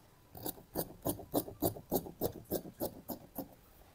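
Scissors cut fabric along a sewing pattern for the back piece of a modern baju kurung, giving about a dozen crisp, evenly spaced snips in a quick steady rhythm, close and clear with no talking.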